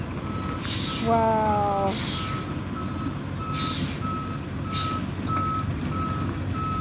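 A truck carrying dairy cows beeps its reversing alarm in a steady repeating rhythm, with sharp hisses of air brakes between the beeps, outside a Toronto slaughterhouse. A person briefly exclaims once.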